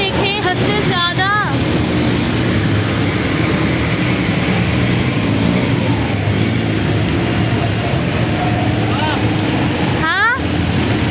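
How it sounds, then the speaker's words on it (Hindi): Heavy rain pours down on a flooded street in Saddar, a dense, loud, constant hiss mixed with rushing water and wind noise, while a passing vehicle hums and brief voices cut through. "कितनी तेज बारिश हो रही है।"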